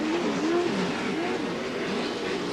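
Off-road race trucks in the Pro 2 and Pro 4 classes roar through a turn at Primm, Nevada, a continuous loud engine drone with rising and falling revs throughout.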